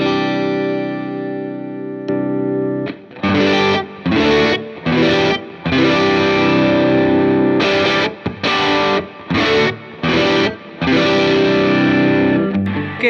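Electric guitar played through a Browne Protein Dual Overdrive pedal on its green side with gain set lower, giving a loud, driven, thick tone; sustained strummed chords alternate with short choppy bursts and brief gaps.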